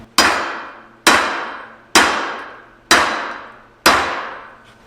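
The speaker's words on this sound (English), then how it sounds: "we can hammer this down and out right now, and we're going to strike these caps off to the side here" Five evenly spaced, loud metallic hammer blows strike the U-joint caps on a worn Ford F250 driveshaft, each sharp impact ringing briefly and decaying before the next, about one per second, close and alone.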